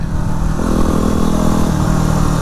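A Yamaha WR250R dual-sport motorcycle riding steadily, its loud, close engine drone holding an even pitch with a slight shift midway, constant and alone.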